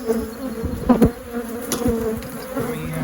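Angry honey bees swarm around an opened single brood chamber hive on a June morning, a dense close buzzing that rises and falls as individual bees pass near, with no talk.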